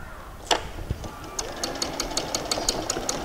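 A sewing machine stitches a fly piece for a pair of shorts, a short run of fast, even needle taps with a few louder knocks near the start.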